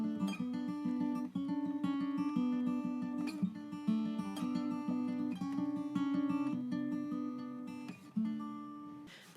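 Fingerpicked acoustic guitar plays a bright, repeating riff of plucked notes over a steady pattern, clear and close with no voices.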